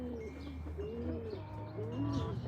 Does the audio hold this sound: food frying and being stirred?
no